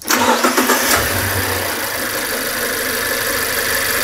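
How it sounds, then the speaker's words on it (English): A car engine cranks and starts during a mechanical health check with a scope connected, then settles into a steady run with an uneven misfire; loud and close, with no talking. "you should be able to hear there is a definite misfire here"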